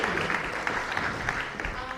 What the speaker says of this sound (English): So can we just have another round of applause, please?